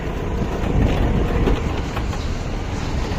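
A train rumbles past close by with a steady, heavy roar and faint rhythmic clatter of wheels. The sound holds at an even level throughout without fading.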